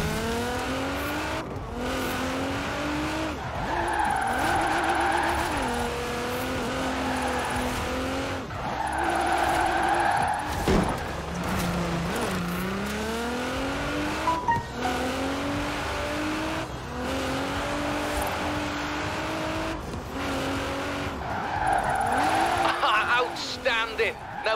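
Drifting in Forza Horizon: car tires squeal and skid over a revving engine whose pitch sweeps up and down through the slides, loud and continuous, with a voice talking over it.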